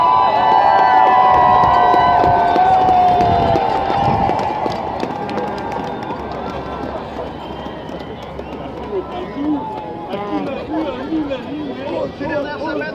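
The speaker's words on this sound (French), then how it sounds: "On les remercie, on les applaudit." Large outdoor crowd at a climate march in Montréal cheering and applauding, a loud sustained roar that gradually eases into a broad wash of clapping and chatter.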